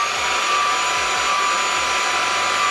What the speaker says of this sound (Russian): Шумит Miko V10 умеренно. 71-74 дБ в первых двух режимах.